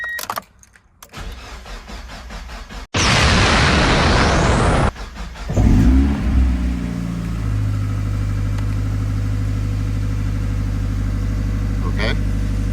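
A Mazda Miata with newly installed aftermarket coil packs cranks over briefly and then fires up, settling into a steady, loud idle that hums on without pause.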